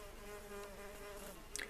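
A mason bee buzzes at its mud nest while provisioning with pollen, a faint, steady droning hum with a brief louder flutter at the end.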